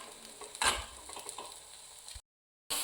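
Sweet corn upma being stirred in a pan, with a spoon scraping and clattering against the metal and a burst of louder scraping early on, before a brief pause of silence.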